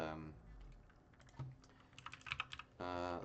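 Fingers tap out a short burst of clicky typing on a computer keyboard, close and fairly quiet, with a voice talking briefly before and after.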